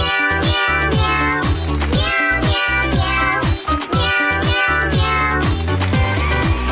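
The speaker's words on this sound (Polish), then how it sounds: "a trzy małe kotki śpiewają pięknie." Three kittens meow in a sung, melodic pattern over a busy musical backing in an animal circus scene from the cartoon Dora the Explorer, loud and continuous throughout.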